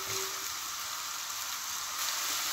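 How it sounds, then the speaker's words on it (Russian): Steady, dense sizzling of two large finely chopped onions frying in hot oil, continuous and close, with a soft crackle throughout and no voices. "В разогретое масло добавляю 2 крупные луковицы,"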